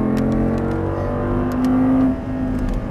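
An Audi R8 engine under full throttle on a track, a loud close droning roar with a rising tone that climbs and then drops back as the revs change, heard without voices.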